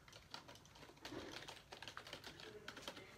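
Rapid keystrokes on a new light-up gaming keyboard, a steady patter of soft, fairly quiet clicks with no talking.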